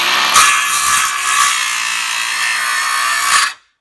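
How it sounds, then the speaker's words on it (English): Porter-Cable cordless circular saw cutting through scrap wood, a loud close continuous high whine and grinding rasp lasting about three and a half seconds before stopping abruptly. "this is just some scrap wood I'm going to cut."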